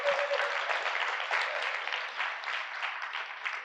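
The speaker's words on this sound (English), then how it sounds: "Can we give a round of applause?" A crowd applauds steadily, a dense wash of clapping that holds throughout without pause.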